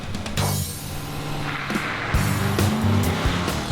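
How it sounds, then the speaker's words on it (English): Nissan Titan XD Pro-4X V8 pickup pulling away hard, engine note climbing through gears with tire noise, loud and close, no talking. "V8 is very responsive off the line."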